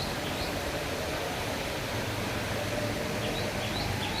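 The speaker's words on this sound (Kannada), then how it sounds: "ಸಿದ್ದರಾಮಪ್ಪ ಕೊಳ ನೀರು ಬರ್ತಾ ಇದೆ ನೋಡಿ" Water pours into Siddharamappa pond at Srisailam, a dense, even rushing hiss that stays constant throughout, with faint bird chirps above it.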